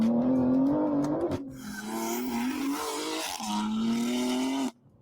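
A BMW G80 M3 accelerating hard in steady, sustained pulls, its engine note climbing and holding close and loud, with a brief dip between runs before cutting off near the end.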